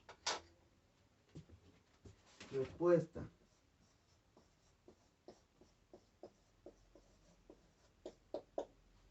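Marker or chalk strokes writing a math answer on a board, a series of short scratchy taps and squeaks spread through the clip, with a brief burst of voice near the start.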